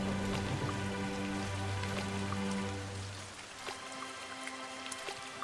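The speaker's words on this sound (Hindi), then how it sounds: "झोपड़ी की छत से पानी टपक रहा था।" Rainwater patters and drips steadily from a hut roof, a dense close wash of drops with a low tonal hum underneath that fades out partway through.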